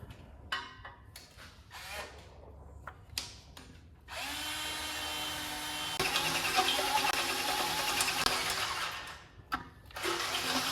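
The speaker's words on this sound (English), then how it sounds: "now we need to drill a hole for our weld-on bung" Power drill bores a hole in the collector of an exhaust header for a weld-on bung, starting with short stuttering bursts, then a sustained loud whining grind for several seconds before stopping, followed by brief clatter.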